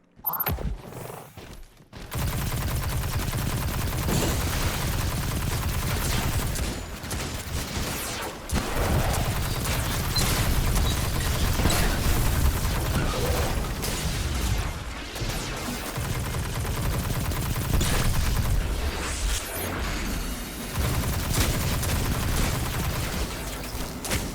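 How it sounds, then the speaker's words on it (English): Ricochet rounds gunfire in Destiny 2, sustained loud rapid shooting with bursts and short pauses over game sounds, lasting through the whole stretch. "So he absolutely decimated some of those goblins with that ricochet rounds"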